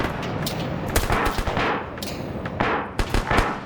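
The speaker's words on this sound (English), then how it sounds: "We're currently under heavy fire." Heavy gunfire in a large PvP video game battle, dense irregular bursts of rifle and machine-gun shots at varying distances, loud and continuous, with several sharp close cracks standing out.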